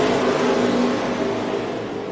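ARCA Menards Series stock cars roar back up to speed on a restart at the Illinois State Fairgrounds dirt mile in Springfield, a steady, loud, dense engine drone with no talk.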